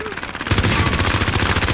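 Rapid video-game gunfire bursts in at close range as a fast, loud rattling volley that continues to the end after a short quieter lead-in.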